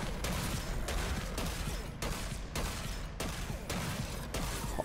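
Shotgun blasts in a free video game fire in a regular rhythm, roughly six loud broad booms about a second apart over continuous game noise.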